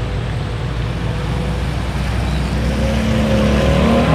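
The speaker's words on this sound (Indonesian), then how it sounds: "cukup lambat ya kendaraan yang melintas di jalur ini, akibat adanya genangan air dan jalan bolong-bolong yang cukup dalam ini teman-teman" Vehicles crawl through flood water over a deeply potholed road on a flooded coastal highway in Kendal, a steady loud wash of engine rumble and churning water with no talk.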